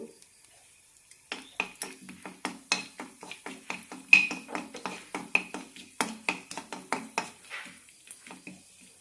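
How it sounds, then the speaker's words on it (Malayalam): Cinnamon, cardamom and cloves roasting in a little oil in a pan, heard as a quick run of sharp, close metallic clinks and scrapes from stirring, irregular and fairly loud over faint sizzling. "മസാലകളെല്ലാം ഒന്ന് വറുത്തെടുക്കാം അതിനായി അര ടീസ്പൂൺ എണ്ണ ഒഴിച്ചിട്ടുണ്ട്"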